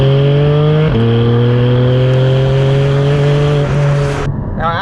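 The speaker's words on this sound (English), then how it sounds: "Now outside the car, the exhaust definitely turns heads, and it's the stock exhaust." Stock exhaust of a Porsche 718 Cayman GT4 wails loudly and steadily, rising in pitch through a quick gear change before cutting off abruptly near the end.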